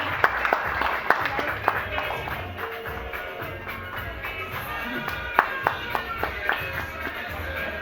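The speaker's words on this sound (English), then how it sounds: "Round of applause for Adali." Scattered clapping and applause from a crowd at a foundation launch, with sharp individual claps over a busy room and people talking.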